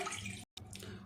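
Water is poured from a coffee mug into a tea saucepan, a faint, brief splashing trickle broken by a split-second gap of silence.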